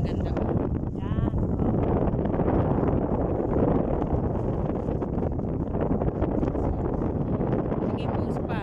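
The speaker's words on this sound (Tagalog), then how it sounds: "sarap ng hangin" A fresh outdoor breeze rumbles steadily and loudly across the microphone, continuous throughout, with faint voices under the roar.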